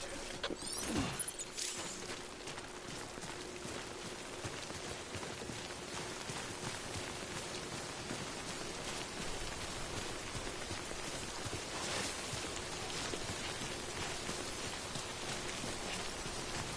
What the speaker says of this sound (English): prolonged exposure to timefall damages cargo containers. Don't stay out in the rain any longer than you have